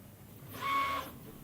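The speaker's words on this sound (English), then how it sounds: "The printer will then perform a nozzle wipe to stabilize the pressure in the print head and remove excess filament at the nozzle." A Prusa MK3S 3D printer performs a nozzle wipe before printing, a soft, steady motor whine that swells for about half a second and then fades, heard alone without talk.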